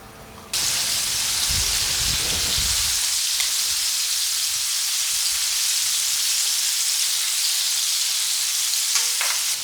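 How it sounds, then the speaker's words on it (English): Chicken wings coated in bread flour deep frying in hot oil, a steady dense sizzle and bubbling hiss starting abruptly after a brief quiet moment and holding loud and even to the end. "Fry for about 5 minutes. This is just to form the crust."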